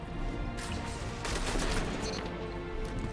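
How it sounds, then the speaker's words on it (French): A sniper rifle fires during a Destiny 2 PvP match, a loud sharp crack followed by rolling rapid gunfire and explosive bursts filling the short burst. "Ah, petite balle de snipe, hein."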